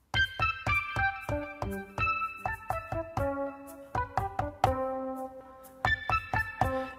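Synthesized chord notes triggered one after another in order from low to high, with repeated bright plucked tones stepping upward in quick rhythmic runs over several seconds, clear and alone.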